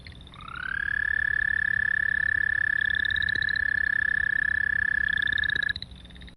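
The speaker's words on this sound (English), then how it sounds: "So the American toad, they can get quite large as well." An American toad gives a long, steady high-pitched trill that rises in quickly, holds for about five seconds close and clear, then cuts off.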